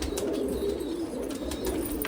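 Pigeons coo in a loft, giving a soft, continuous low burble that repeats steadily throughout at moderate loudness with no talk.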